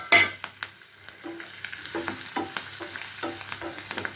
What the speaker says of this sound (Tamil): இப்போ இதில் பச்சை மிளகாயும் அந்த இஞ்சி நறுக்கி வச்சுருக்கிற இஞ்சியும் போட்டு நல்லா வதக்கிக்கணும்